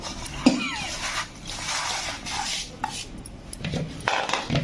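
Spices for a mango pickle, including mustard seed, fenugreek and salt, are mixed in a bowl. Quiet clinks and scrapes of a spoon against the bowl sound close, with a few sharper taps and no talking.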